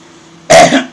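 A single sharp cough bursts out midway, loud and close, following a quiet stretch of low background hum.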